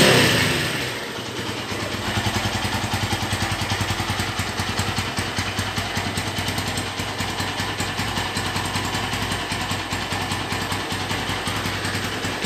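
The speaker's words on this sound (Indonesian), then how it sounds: "jadi ketika kita gas itu masih ada suara yang nging kayak gini nih." A red 2011 Honda Tiger Revo SE motorcycle engine runs steadily close by, its throttle blipped repeatedly with a continuous high whining tone riding over the rapid mechanical putter throughout, no talking.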